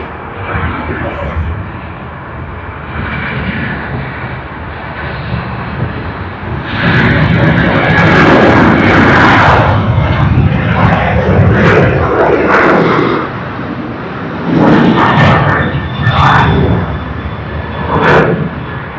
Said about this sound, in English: Sydney to Perth, V8 on the Boeing 737-800